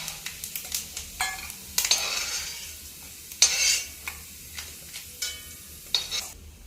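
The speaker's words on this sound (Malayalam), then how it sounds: "തേങ്ങാക്കൊത്ത് നന്നായിട്ട് മൂത്തിട്ടുണ്ട്" Coconut pieces frying in hot oil crackle and sizzle, with separate scrapes of a spoon stirring the pan at close range, with no talk.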